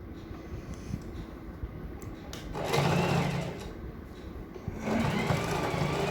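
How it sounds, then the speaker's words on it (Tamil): A sewing machine stitches a uniform skirt belt in close, rapid whirring bursts that swell and ease as the seam is fed through. "மடித்து இன்னொரு ஸ்டிச் போட்டுக்கணும்."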